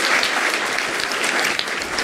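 An audience at a hardware security conference talk applauds in a dense, steady burst of clapping that fills the whole moment, with no speech over it.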